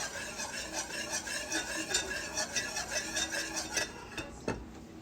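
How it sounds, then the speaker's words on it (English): Macaroni noodles being stirred in a pot: a spoon scrapes and knocks against the metal in a quick, regular rhythm, with a faint sizzle underneath and one sharper clank near the end. "So I'm going to go ahead and give these noodles a stir."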